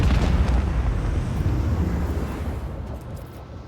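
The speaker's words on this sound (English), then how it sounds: "The torpedo can go for that one. And this one can detonate where it is." In the Warhammer 40,000 video game Rogue Trader, a torpedo detonates in a deep, rumbling blast that starts loud and slowly fades over several seconds, with no voices.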